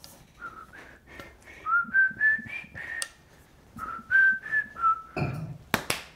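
A man whistles the theme tune of the French TV series Soda, a bright melodic run of short rising and falling notes, close and alone, ending with a few taps and a rustle.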